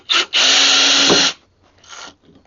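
A power drill backs screws out of the hinges on a wooden gate leg table: a short burst, then a sustained loud whirring run of about a second, followed by a fainter, softer spin. Nearby, and no talking.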